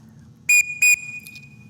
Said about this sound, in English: the first whistle command you're going to hear is to blast